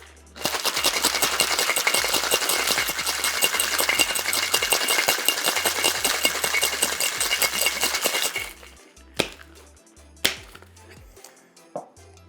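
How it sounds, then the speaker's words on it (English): Ice is shaken hard in a large cocktail shaker for a blackberry and sage whiskey sour, a loud, dense, rapid rattle lasting about eight seconds, followed by a few separate clinks. "just add the ice to the big shaker. Put it back on, and now we're just going to shake hard for about 5 to 10 seconds"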